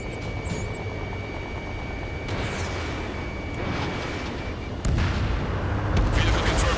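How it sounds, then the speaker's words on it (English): Artillery fire in the combat flight game Ace Combat 7, a steady low rumbling barrage beneath engine drone, with a heavier burst near the end; radio-style voices talk over it. "Their artillery fire just missed us off our starboard side."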